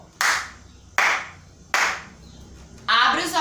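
Three sharp hand claps, evenly spaced and close, followed by a brief burst of sound at the end.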